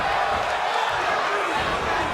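A pro wrestling crowd at an independent show chants steadily, a dense, loud wash of many voices held without a break.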